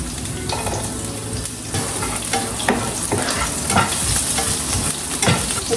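Small shallots frying and being stirred in hot coconut oil, a steady close sizzle broken by repeated scraping stirs and little crackles, with no talking.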